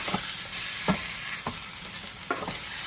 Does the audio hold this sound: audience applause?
no